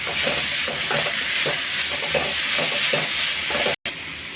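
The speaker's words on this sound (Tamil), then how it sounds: "அப்புறம் டொமேட்டோ சாஸு போட்டு நல்லா பரட்டிக்கலாம்" Chapati noodles stir-fried with tomato sauce in a hot pan, steady sizzling with rhythmic scraping and stirring strokes, close and loud, with a brief cut near the end.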